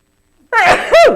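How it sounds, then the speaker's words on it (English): A single loud, close sneeze, a sharp breathy burst followed quickly by a voiced, tonal exhale. "Pardon me, I think I have to sneeze."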